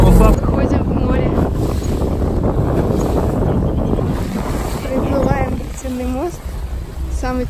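Sailboat heading out to sea past the city waterfront of Saint Petersburg, steady wind buffeting and water rush filling the sound, with a few faint bird cries near the end.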